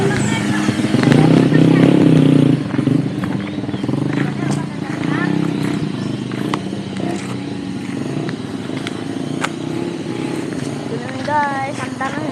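A motorcycle engine rumbles steadily, louder at first then settling, while people talk over it with background chatter.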